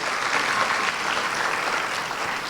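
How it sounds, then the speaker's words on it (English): Audience at a Bharatanatyam Arangetram applauding the musicians and the dancer Krishna, a dense, continuous round of hand clapping from a seated crowd, steady and fairly close. "Can we hear a good round of applause for the musicians and Krishna?"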